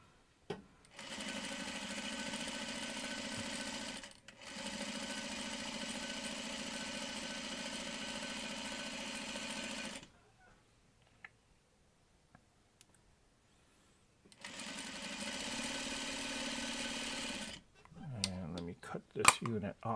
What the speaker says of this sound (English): And right now I'm just sewing my strip set.